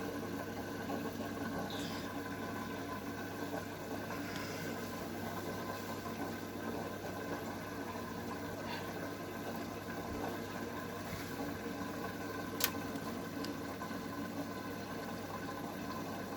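A washing machine runs a cotton 90°C rinse cycle with a low steady motor hum, faint water sloshing and pump drone, constant and quiet throughout, with one small click midway.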